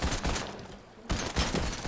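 Fortnite game gunfire crackles in dense rapid bursts, loud and close, with a brief lull before another volley of shots.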